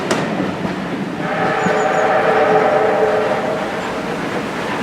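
A steam train on the Keighley & Worth Valley Railway runs steadily close by during a spring steam gala, giving a continuous rumbling roar with a sustained tonal whistle in the middle.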